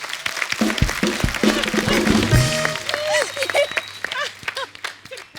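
Audience applause from a studio crowd on a Hindi comedy talk show, a loud, sustained burst of clapping that runs for several seconds with voices and music mixed in over it.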